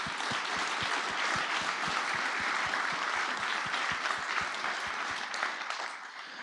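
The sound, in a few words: audience applause for conference volunteers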